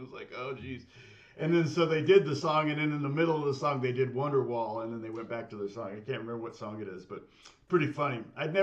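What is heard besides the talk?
No distinct noise like a dog, phone or traffic.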